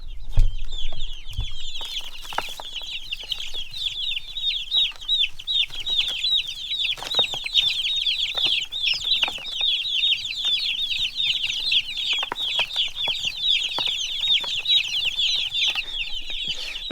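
Young chicks feeding excitedly on fly larvae, a dense, continuous chorus of high peeping and clucking, close and steady throughout with a few faint low thumps early on.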